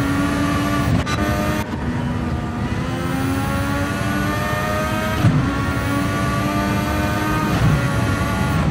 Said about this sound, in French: je vous laisse profiter un petit peu du pilotage de Nico, qui s'approche de la voiture de Lulu.